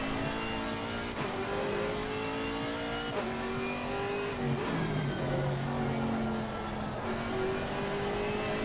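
A racing car engine in the video game Assetto Corsa Competizione revs and whines through gear changes, rising and dropping in pitch continuously, loud and close, with a brief tire squeal.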